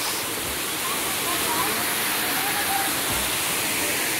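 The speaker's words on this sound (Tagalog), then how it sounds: "this is the Busay Falls located in Tudela, Camotes, Cebu, Philippines" Busay Falls in Tudela, Camotes, Cebu, a steady, dense hiss of falling water heard up close, with a faint voice briefly under the roar.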